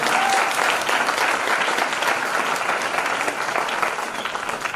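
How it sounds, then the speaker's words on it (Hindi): An audience breaks into sustained applause at a gathering, a dense, loud patter of many hands clapping throughout that eases slightly toward the end. "बजाओ ताली।"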